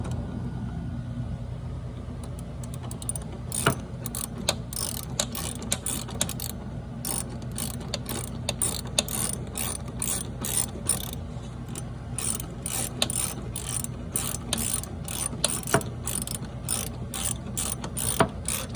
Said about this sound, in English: That's a 1/2 inch wrench